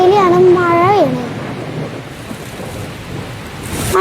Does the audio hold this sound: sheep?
no